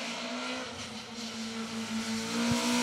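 A Nissan Micra kit car rally car races along an asphalt rally stage, its engine note droning steadily at moderate distance, with a tonal whine sustained throughout and a short knock near the end.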